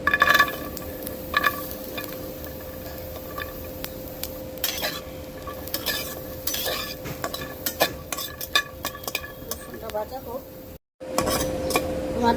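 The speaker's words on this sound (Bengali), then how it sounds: "এখন রসুন ভেজে নিব।" Garlic frying in a pan for a Bangladeshi bharta dish, stirred with a utensil that scrapes and clinks against the metal at close range, with a steady faint sizzle underneath and a brief drop to silence near the end.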